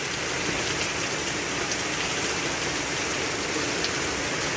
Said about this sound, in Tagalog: hindi natin maibabalik kasi tumutulo pa yung tubig,